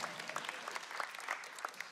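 Church congregation applauding during a sermon, a faint scattered patter of claps heard from a distance in a large room.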